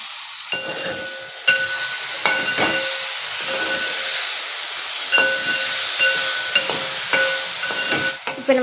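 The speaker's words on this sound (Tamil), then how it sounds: "இப்போ இதில் கொஞ்சமாக உப்பு சேர்த்து நம்ம வதக்கி எடுத்துக்கலாம்" Mixed vegetables for veg dum biryani, with a little salt added, sizzle and hiss steadily in a hot pan, broken by sharp clicks and scrapes of stirring.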